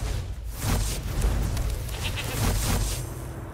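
Goat tokens in the digital card game Magic: The Gathering Arena give out nasal, warbling bleats a few times over a layer of game music and effects.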